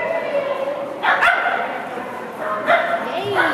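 A dog barks during a USDAA agility run, with a few sharp, excited barks and yips close by while people talk.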